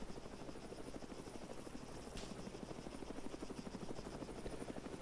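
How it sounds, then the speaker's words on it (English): A helicopter in the video game Arma 3 thrums steadily with a rapid rotor chop over the whole stretch, moderately close, with no voices. "Sounds like shots fired at the helicopter from the southeast."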